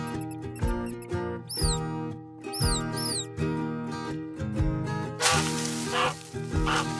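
A little white-and-gray rat in a shopping cart gives a few short, high squeaks in quick bursts, heard over steady background music.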